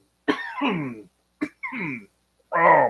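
A person coughs in several harsh, close bursts, two short and two longer, separated by silence.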